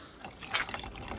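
Glacier waterfall water in Norway's Lofoten Islands pours and trickles close by, a steady liquid splashing with a few brighter gurgling surges and no talk over it.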